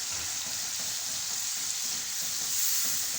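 Soy sauce and ketchup stirred in a hot pan for spicy baby potatoes, producing a steady close sizzle with faint scraping strokes and no talk.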